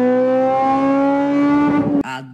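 A stock Honda Civic Si revved hard, its engine note climbing steadily to a high scream as VTEC kicks in, then abruptly cut at the limiter and settling into a lower burble, loud and close.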